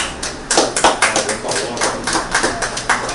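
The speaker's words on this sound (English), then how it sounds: "Give her a clap, please." An audience claps for a 107-year-old woman at her birthday celebration, a dense run of hand claps with uneven accents that holds steady throughout.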